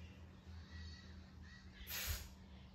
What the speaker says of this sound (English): That bird makes me laugh.